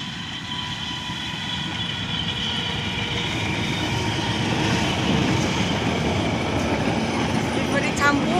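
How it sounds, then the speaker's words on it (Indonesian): A local commuter train passes close by through Cicalengka station, a steady roar of wheels on rails building slightly louder, with faint screeching near the end. "Ini tadi kereta api lokal Bandung Raya yang nomor 452"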